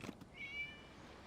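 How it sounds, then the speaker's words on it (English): A single faint, thin cat meow in the video game Genshin Impact, drawn out and distant, preceded by a soft tap. "It was just a cat."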